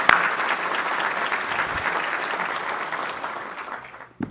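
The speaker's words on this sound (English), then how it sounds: "Let's give Town Bank a round of applause." A crowd in a hall claps for a sponsor at a city's State of the City event, a full burst of applause that holds steady and then tapers off toward the end.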